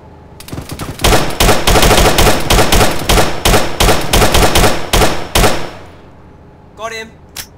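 Rapid automatic gunfire in the Arma 3 military shooter, loud and close, with dense bursts of shots running for several seconds before cutting off, followed by a brief spoken word.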